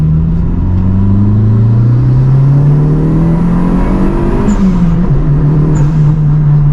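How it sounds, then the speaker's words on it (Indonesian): Mitsubishi Evo 5 turbo engine pulling hard under acceleration, a loud steady rising drone from inside the car with a couple of brief sharp blow-off valve chirps near the end. "Kita dengerin suara blow off-nya."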